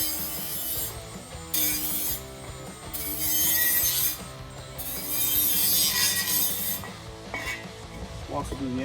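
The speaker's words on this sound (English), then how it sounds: "It's gonna leave a little bit of burrs and all that, so we're gonna go ahead and clean that up." Deburring the freshly cut end of a 5-inch MBRP exhaust pipe on a Ford F-250, with repeated scraping and filing strokes rasping in a steady rhythm, close and fairly loud throughout.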